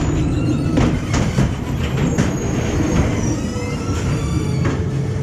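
Rumbling rail wheels clatter and squeal as a small ghost train ride car rolls along its track at a seaside amusement park, with a steady mechanical rattle and occasional metallic screeches.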